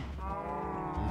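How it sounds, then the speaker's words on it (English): A Minecraft cow in the Feed the Beast modpack gives a single drawn-out low moo, close and loud, filling the short moment alone. "Stupid teleporting cows."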